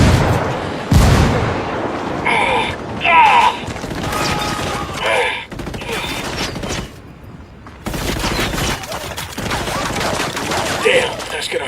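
In Ghost Recon Wildlands, loud gunfire rattles in bursts and a heavy grenade blast booms near the start, followed by ongoing volleys and shots, with a voice speaking briefly among the noise.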